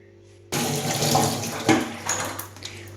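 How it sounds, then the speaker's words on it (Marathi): Soaked soybeans are rinsed under a running tap, the water switching on abruptly into a steady, close splashing gush with brief sloshes as the beans are stirred in the sink. "आता स्वच्छ पाण्याने दोन वेळा मी सोयाबीन एकदम चांगलं धुवून घेतलेले आहे"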